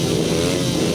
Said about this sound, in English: The revs are rising and away they go.